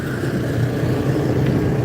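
Modified race cars rolling out onto a dirt track, a loud continuous engine rumble from several motors idling and revving together, steady throughout with no talk.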